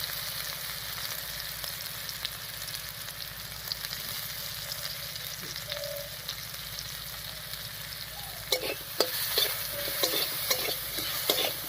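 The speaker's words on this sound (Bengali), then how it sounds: "লবণ হলুদ দিয়ে মিশিয়ে নিলাম" Potatoes with salt and turmeric stirred in a frying pan over a quiet, steady sizzle, with clearer scraping strokes of the spatula near the end.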